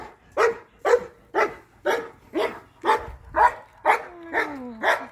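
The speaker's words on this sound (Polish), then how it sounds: "bo on tu nie przestanie szczekać" A dog barks close and loud in a steady series of about ten sharp barks, evenly spaced, with a faint whine near the end and no talk over it.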